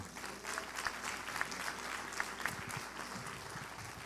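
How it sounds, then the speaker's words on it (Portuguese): A church congregation claps together during a worship service, a dense steady wash of many hands filling the room at moderate loudness for several seconds, with a few louder individual claps standing out. "Dê as palmas para o Senhor."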